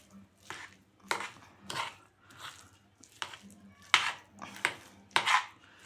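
A spoon clinks and scrapes against a bowl in a steady, repeated rhythm while vada potato filling with turmeric is mixed, close and moderately loud, with faint talking in the background.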